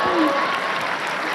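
Audience applauds at the ABP Shikhar Sammelan interview event with Kumar Vishwas. A short, dense burst of clapping fills the hall, steady and close, with a little voice beneath it.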